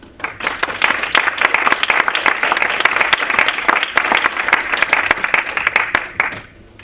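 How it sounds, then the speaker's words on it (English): Festival audience applause greeting a guest speaker: a crowd of hands clapping loudly and close, individual claps distinct, tapering off near the end. "So please give him a warm applause."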